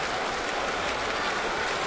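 A baseball stadium crowd of over 45,000 cheers and applauds, a steady dense roar of clapping and voices with no breaks, broad and distant-sounding, filling the whole moment.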